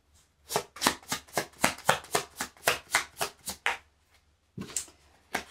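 A deck of oracle cards is shuffled for a reading, about a dozen quick rhythmic riffling bursts, close and clear, then a pause and a few softer card sounds, no talking.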